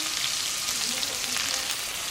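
Garlic and ginger paste sizzles and fries in hot oil, a steady, close hiss that runs without a break, with no talking over it.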